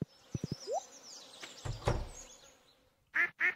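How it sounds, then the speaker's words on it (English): Ducks quack in the farming game Stardew Valley, two loud nasal quacks near the end after scattered soft clicks and rustling game sounds. "Hello, ducks."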